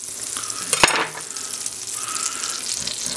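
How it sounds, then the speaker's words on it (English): A tablespoon of butter sizzles and spatters in a hot frying pan on a home stove, a steady bright crackle with a sharp clink of a utensil early on, fairly close and heard without talk. "I'm going to add a tablespoon of butter to my hot pan"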